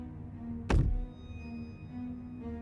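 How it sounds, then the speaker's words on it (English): A single heavy thunk in the Slay the Princess video game, one loud low impact like a footstep thumping on a stair, fading into a quiet sustained droning tone. "Movement on the stairs. Thump, thump, thump."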